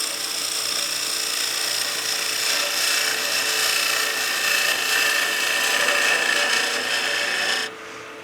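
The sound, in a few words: wood lathe spinning at about 2,000 RPM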